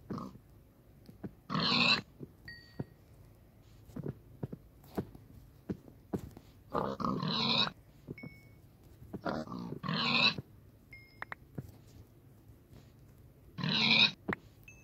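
Pigs grunt in the Minecraft video game, short snorting oinks repeating in scattered bursts several seconds apart against a quiet background with faint clicks.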